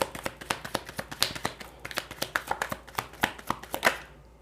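Tarot cards are shuffled and drawn, making quick, crisp slapping and riffling taps in an irregular rapid rhythm, close and fairly quiet with no talking.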